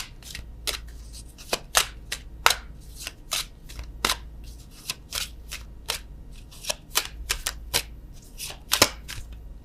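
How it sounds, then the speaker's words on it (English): A deck of oracle cards shuffled close by, with crisp, irregular card slaps and riffles pattering steadily throughout, no talking. "let's get a love oracle card"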